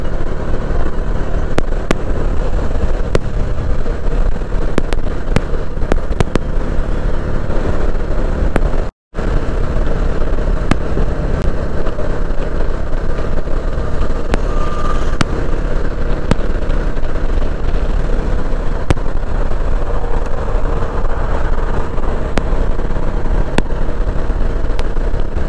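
A Bajaj Dominar 400 motorcycle ridden on a morning highway ride, a steady engine drone mixed with heavy wind rush, continuous and loud throughout, with one brief dropout partway through.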